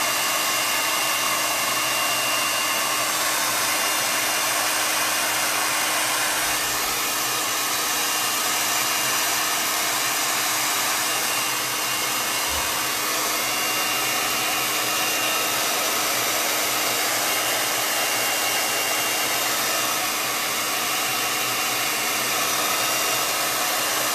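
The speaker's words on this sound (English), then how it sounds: "I'm going to use my dryer to dry that some, and so you're going to hear the noise" A hair dryer blows continuously to dry wet chalk paste on a kids' T-shirt, a loud, steady whooshing roar held close to the microphone with only slight shifts as it is moved about.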